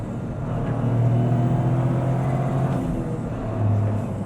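A Toyota GR Corolla Morizo engine hums steadily with a low, droning rumble and induction sound, rising briefly near the end as the revs climb on a downshift into fourth, close and continuous with no talking.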